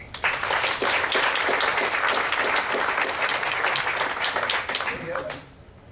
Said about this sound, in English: One more round of applause for Andy.